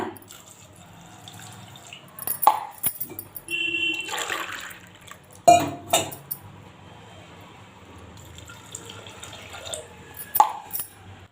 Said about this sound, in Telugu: ఒక గ్లాస్ కందిబాళ్ళకి రెండు గ్లాస్ వాటర్ అయితే వేసేసాను